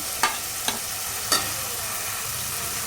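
Chopped tomato pieces and coconut chili powder sizzle in a pan for a mushroom masala while being stirred, a steady close hiss broken by three quick spoon scrapes early on.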